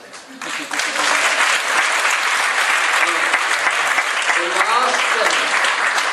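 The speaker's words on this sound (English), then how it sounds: "So we'll have a big round of applause." Audience applause at a Chinese community New Year gala in Belfast, a dense burst of clapping that swells after a quiet start and holds steady, loud and full, with faint voices mixed in.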